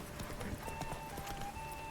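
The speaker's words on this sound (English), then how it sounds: "у мене кінь вже другий раз втомлюється" Hooves of Roach, the horse in The Witcher 3 video game, clip-clop in a steady rapid rhythm throughout, close and clear over a low game ambience with faint tonal music.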